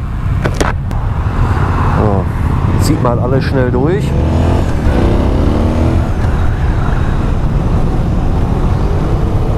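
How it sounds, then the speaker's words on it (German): Cars pass by on a road in a loud, continuous traffic roar, with German voices talking over it. "So, warten wir noch mal eben die Autos ab da"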